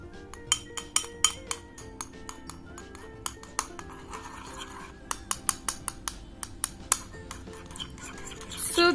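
Slime being stirred with Boroline in a bowl, giving a run of sharp clinks and taps of a utensil against the bowl in an uneven rhythm, fairly close and moderately loud, ending in a brief rustling scrape.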